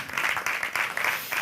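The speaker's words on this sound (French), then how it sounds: "Ça s'applaudit." An audience applauds at a televised event, a short dense burst of clapping that stays fairly steady throughout.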